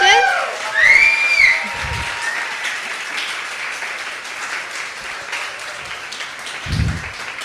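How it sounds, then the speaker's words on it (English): An audience applauds at a talk event, clapping that stays steady throughout at moderate distance, while a voice speaks over it near the start. "Can we just give them another loud round of applause for their courage and inspiration?"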